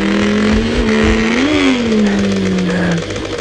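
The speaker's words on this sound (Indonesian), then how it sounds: "Naik tangga, harus gas kencang ya." A trial motorbike engine in the Trial Xtreme 4 video game revs hard while climbing stairs. It makes a loud, continuous mid-pitched drone that swells briefly and then eases back, with no voices over it.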